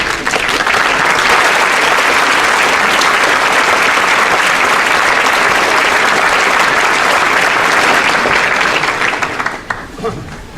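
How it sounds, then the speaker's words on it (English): A large commencement audience at Cardigan applauds in a dense, loud, sustained roar of clapping that holds steady for about nine seconds before tapering off quickly. "give them a great round of applause"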